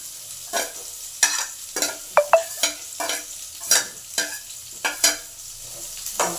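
Onions and curry leaves fry in a pan with a steady soft sizzle, broken by repeated sharp scraping strokes of a spatula stirring them, about one or two a second, close by and with no talk.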